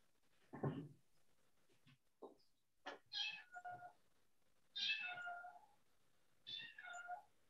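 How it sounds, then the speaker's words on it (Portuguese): A cat meows about four or five times at uneven intervals, each call rising and drawn out. It sounds fairly close and quiet, with no talking in between. "gatinho"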